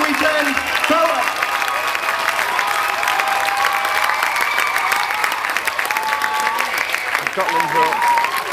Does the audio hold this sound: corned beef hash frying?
no